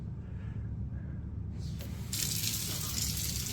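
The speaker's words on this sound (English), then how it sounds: "Okay, that's enough water, please." Water starts running from a tap partway through, a low hum before it, then a steady hiss and gush that turns louder and brighter as the flow opens up, with no talking.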